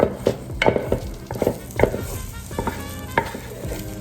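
Loose egg frying in a pan for fried rice, with a steady sizzle broken by repeated scraping and stirring strikes of a utensil against the pan, close and moderately loud.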